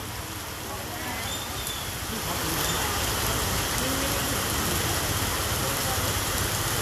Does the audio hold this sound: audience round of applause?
no